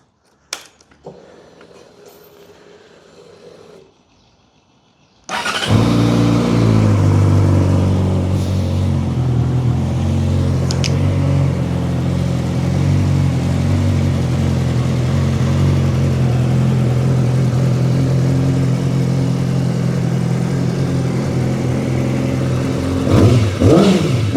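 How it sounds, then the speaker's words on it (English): A 2006 Yamaha R6 sportbike sits quietly with faint handling sounds before its engine cranks and fires at about five seconds, then idles loudly and steadily with occasional small throttle blips and a sharper rev near the end, no talking. "I guess let's start it up and find out, you know, what it sounds like when it comes from the factory."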